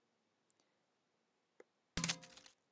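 A couple of faint clicks, then a short crumpling rustle of paper being tossed into a bin, brief and close: the Mac OS X Snow Leopard sound of moving a file to the Trash.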